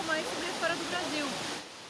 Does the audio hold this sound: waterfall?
yes